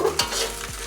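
Egg-coated rice stir-fries in a wok over high heat, a close sizzle broken by two quick scraping tosses of a spatula within about a second.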